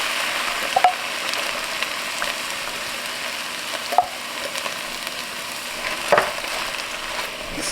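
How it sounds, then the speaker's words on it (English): Meatball soup with canned tomato sauce being stirred in a pot, a steady low simmering hiss with three soft scraping strokes spaced a couple of seconds apart, close and fairly quiet. "Mix that up really well."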